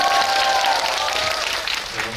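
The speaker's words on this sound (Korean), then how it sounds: "박수, 환호 여기서도 많이 쳐주시면 감사하겠습니다." Audience applause fills a cinema during a stage greeting for a live-recorded Elisabeth musical screening at a Dolby Cinema hall in Seoul, a dense, steady clapping that stays loud throughout and eases slightly toward the end.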